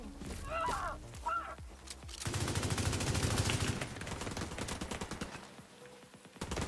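Rapid automatic gunfire in a PvE shooter game, dense bursts of shots rattling continuously near the listener after a couple of short opening pops, with crackling impacts and no voices.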